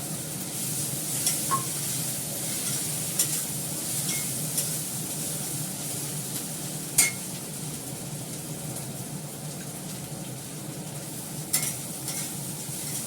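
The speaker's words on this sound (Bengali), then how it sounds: "মাছ ভাজা" Fish fries in oil in a home kitchen, making a steady, even sizzle throughout, with a few brief utensil clinks and no speech.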